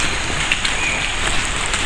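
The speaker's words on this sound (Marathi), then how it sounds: "आणखी एक छोटा धबधबा लागला आपल्याला." A small waterfall on the Bhimashankar trek pours with a steady, close, hissing rush of falling water, even and unbroken for the whole stretch.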